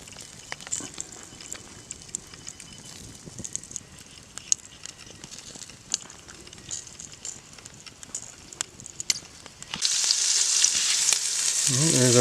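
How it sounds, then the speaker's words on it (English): Grouse meat sears in a pan at an off-grid hunting camp, a soft, crackling sizzle with scattered pops, then a sudden louder, brighter hiss near the end. "There's our grouse meat all seared up."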